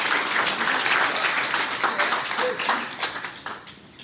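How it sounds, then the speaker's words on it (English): An audience gives a round of applause after a startup pitch, dense clapping from many hands that stays steady and then gradually thins out toward the end. "Round of applause."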